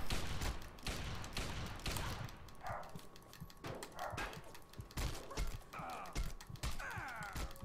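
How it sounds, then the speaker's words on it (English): Gunfire in the video game Fallout 3, rapid shots and thuds repeating across the stretch, with brief voice-like sounds mixed into the busy game audio. "Who's shooting at me?"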